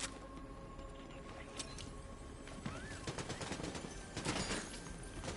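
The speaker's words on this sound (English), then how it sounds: "I hear shooting all around me." Rapid bursts of gunfire crackle in a Fortnite match, with dense repeated shots building toward the end, steady and fairly close over a busy game background.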